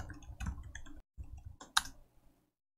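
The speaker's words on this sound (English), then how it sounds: "I have to type the password." Fingers type on a computer keyboard in short irregular clusters of close, crisp key clicks, followed by a brief pause and one final sharp keypress, with no talk.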